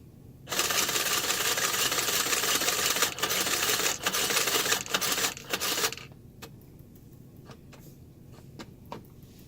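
A Sears Model 49 child lockstitch sewing machine runs in a fast, steady mechanical clatter for about five seconds, pausing briefly twice, then stops, leaving soft scattered clicks and handling noises.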